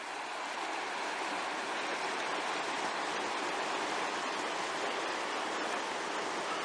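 Steady, broadband rush of a river flowing nearby in Wasilla, Alaska, a constant wash of water with no breaks, alone and without voices.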